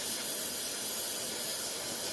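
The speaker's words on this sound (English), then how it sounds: "Clean it off with some brake parts cleaner." Aerosol brake parts cleaner is sprayed onto a 2-door Tahoe's brake line area, giving a continuous, close, loud hiss with no break for about two seconds.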